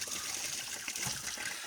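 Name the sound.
rusty water draining from truck engine cooling system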